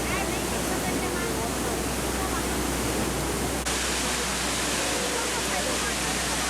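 Thunderous roar of a huge waterfall 77.8 m high and 101 m wide near Guiyang, a dense, steady rush of falling water that fills the whole clip without a break.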